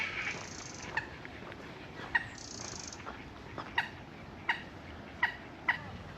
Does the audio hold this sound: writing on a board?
no